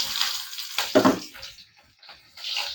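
Onions fry in hot oil with mustard seeds for a fish curry, giving short quiet bursts of hissing sizzle and crackle that come and go.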